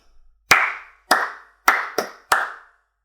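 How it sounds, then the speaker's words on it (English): Five sharp hand claps in an uneven rhythmic pattern, close and dry, each with a short ringing decay, with no voices. "I'm going to clap some rhythms or patterns and I'd like you to clap them back."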